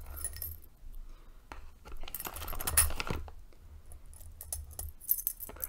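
Metal curtain rings shaken inside a plastic bag, soft clinks and jingles mixed with faint crinkling, close and quiet with a brief louder rustle in the middle.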